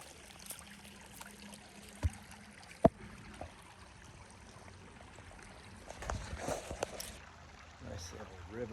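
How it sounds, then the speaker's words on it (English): A small river flowing at a roadside stop during a motorcycle camping trip near Zion National Park, a faint steady rushing broken by a few sharp knocks and soft handling noises. "Nice little river stop."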